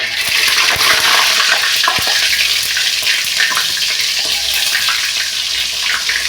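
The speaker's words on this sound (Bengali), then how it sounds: "তেলটা গরম হয়ে গেছে এর মধ্যে বাটার দেবো এক চামচ" A spoonful of butter sizzling in hot oil, a loud, steady crackling hiss with dense spitting pops close by, alone with no talking.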